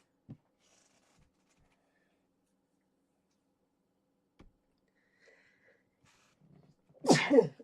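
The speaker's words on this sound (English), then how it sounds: "You just made me sneeze." A single sharp sneeze bursts out near the end after a mostly quiet stretch with a few faint clicks.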